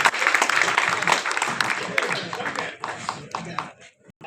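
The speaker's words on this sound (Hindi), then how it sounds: "जोरदार ताली से बुलाइए" Audience applause at a humour poetry gathering in Chaibasa, welcoming a poet to the stage, with dense clapping that starts loud, thins out and fades toward the end, mixed with crowd voices.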